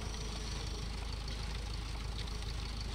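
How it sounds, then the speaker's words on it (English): A heavy tractor in Pure Farming 2018 runs with a steady, close, low diesel rumble and a faint knocking pulse, unchanging throughout. "we're doing this with the heavy tractor because it has a much easier time"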